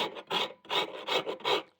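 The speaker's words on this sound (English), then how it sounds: "Something about filing them has a real natural feel, and that's exactly what I'm going for." A hand rasp shaping a wooden guitar neck makes four quick, rhythmic scraping strokes close up, each a coarse raspy burst with short pauses between them.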